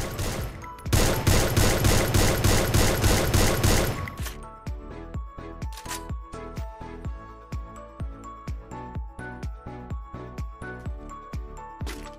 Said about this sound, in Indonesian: Ini senjata accuracy tinggi. Senjata ini memiliki 15 peluru.